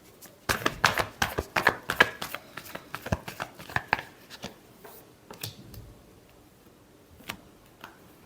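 Tarot cards are shuffled close up in a rapid run of crisp riffling slaps and taps, which thin out into a few separate soft clicks toward the end.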